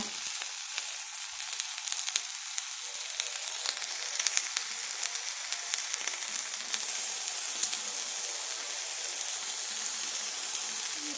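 Vietnamese pizza sizzling as it fries in a pan, a steady close crackle with dense popping spatters running throughout, no voices over it.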